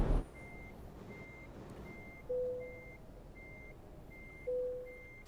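Reversing alarm of an Iveco truck backing into a parking spot in Euro Truck Simulator 2: a steady series of short, evenly spaced electronic beeps over a low engine rumble, with two brief air-brake-like hisses.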